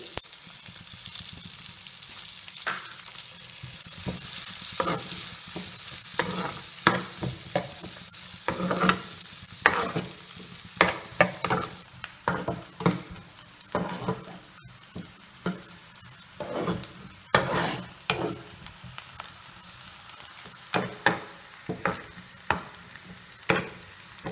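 Onions and chicken frying in a pan, with a broad, steady sizzle throughout and a run of stirring scrapes that get sharper and more frequent later on, close and fairly loud with no voices.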